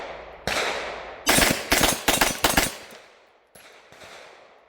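An MPA DS9 LOC MK2 pistol fires at an outdoor range: a single sharp shot, then a quick string of four, and one more after a pause, loud and close with short decaying echoes.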